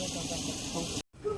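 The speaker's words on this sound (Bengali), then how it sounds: "চিকেনটা আমাদের এখন সিদ্ধ হচ্ছে এখানে বন্ধুরা" Chicken boils in a pot, giving off a steady, close hiss of steam that cuts out abruptly near the end before a brief faint resumption.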